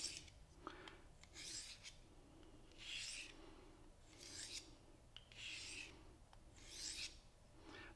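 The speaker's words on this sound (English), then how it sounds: "now switch over to the ceramic. Again, hold it by the opposite handle, lay the knife on the guide, and make a pass from heel to tip" A knife drawn heel to tip along the ceramic rod of a folding field sharpener, set at 25 degrees. About six rhythmic, raspy strokes alternate at an even pace, close and clear with no talking.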